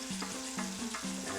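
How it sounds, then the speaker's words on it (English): Spices and garlic sautéing in a pan for an empanada filling, a steady close sizzle and fry with a faint repeating stirring rhythm underneath. "We're going to allow this to saute for about 5 minutes."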